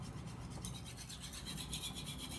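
A kitchen knife is rubbed on a 6000 grit King whetstone, giving soft, close, repeated rasping strokes at low volume with no talk.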